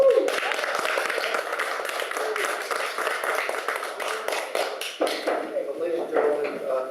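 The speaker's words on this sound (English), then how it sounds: "it's not appropriate to clap during getting testimony here" Audience applause fills a city council meeting room in Del Rey Oaks, a steady wash of hand claps that runs almost the whole time and thins near the end as a voice comes in.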